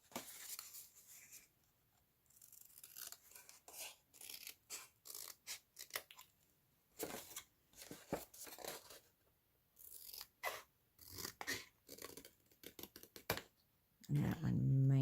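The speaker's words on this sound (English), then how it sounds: "So I just go up and I snip that little edge." Scissors snip around the edge of a plastic Oreo cookie tray, producing close, sharp crunchy cuts in irregular bursts separated by quiet pauses, with a louder rustle at the very end.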